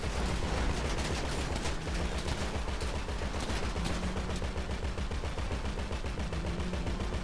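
Rapid, sustained gunfire from a shootout in Grand Theft Auto V, dense bursts continuing without pause at a steady, loud level throughout.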